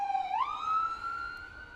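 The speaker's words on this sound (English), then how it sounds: "As an ambulance rushes past" An ambulance siren sweeps past on a busy city avenue in fine weather, its steady wail rising in pitch and holding, moderately loud over low traffic rumble, with no voices.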